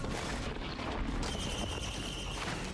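Fireworks going off in the video game Risk of Rain 2, a dense steady rumble of crackling bursts with a brighter whistling layer entering partway through, loud and continuous with no talk over it.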